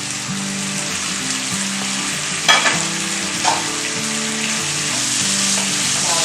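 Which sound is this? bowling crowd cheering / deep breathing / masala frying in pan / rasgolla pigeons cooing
masala frying in pan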